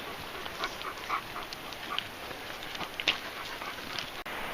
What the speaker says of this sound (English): I think she's the school dog.